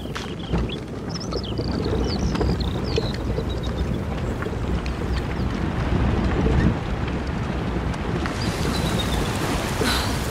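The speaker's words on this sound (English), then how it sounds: "The current's too strong." Steady roar of a strong river current in A Plague Tale: Innocence, a broad continuous rush of water heard close and loud, with a few faint birdlike chirps above it and no talk.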